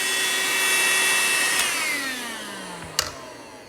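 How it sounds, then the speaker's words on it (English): A repaired handheld vacuum cleaner runs with good suction, a steady high whine with a sharp click near the end as it powers down and the motor pitch drops. "this particular vacuum cleaner, instead of throwing it out, now it is back to life"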